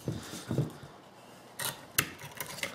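A saw blade being sharpened on a Work Sharp sharpener with a medium grit, giving short rasping scrapes in separate strokes at close range, with quieter pauses between them.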